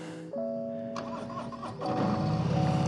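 A 2021 Harley-Davidson Road King Special with a 114 engine starts up: a brief electronic tone and starter whir, then the big V-twin catches and settles into a loud, deep, lumpy idle close by.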